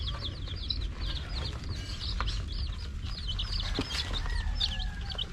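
Newly bought chickens cluck and chirp steadily in a coop, with repeated short calls over a constant low hum, fairly close and with no one talking.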